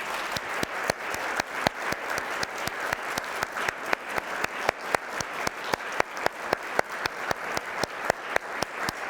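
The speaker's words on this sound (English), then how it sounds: "So let's give them a round of applause instead of me" Applause from an audience honouring staff at a history of photography event in Iowa, a steady, moderately loud wash of clapping with sharp individual claps standing out, lasting throughout.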